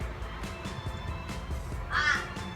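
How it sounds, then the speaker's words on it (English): A crow caws a few times, with one clear harsh call standing out near the end over a quiet room with faint background sound. "There's a crow there, hey?"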